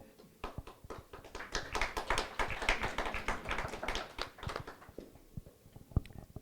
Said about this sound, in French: Les applaudissements significatifs, puisque c'est le cardinal qui les a lancés.